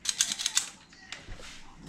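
A kitchen cookie scooper clicks several times in quick succession, sharp and close, then the sound drops to quieter handling noise.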